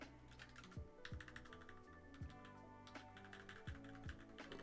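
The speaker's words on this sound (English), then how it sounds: "Wow, typing's hard." Fast typing on a computer keyboard while writing code, dense bursts of crisp key clicks with brief pauses, faint and close, no talking.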